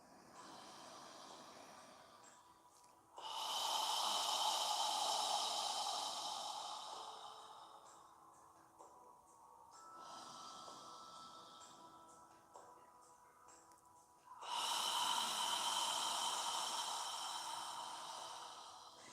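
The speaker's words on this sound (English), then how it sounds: "Breathing naturally as you inhale and exhale." Slow, deep breathing during a yoga session, with long airy inhales and exhales rising and falling in a steady cycle, faint and close with no talking.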